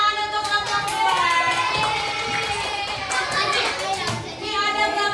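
Primary-school children in an Indonesian classroom applaud a group, a dense patter of small hands clapping for several seconds, mixed with excited kids' voices and chatter.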